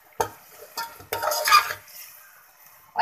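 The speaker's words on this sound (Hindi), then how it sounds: "इसको 1 से 2 मिनट मसाले के साथ कीमे को अच्छी तरह से भूनेंगे।" A spoon scrapes and stirs minced meat (keema) with spices in a frying pan, making a few sharp strokes with a light sizzle between them and no voices.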